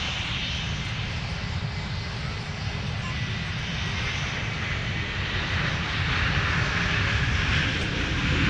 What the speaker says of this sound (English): Let's take another peek at our A321neo arriving.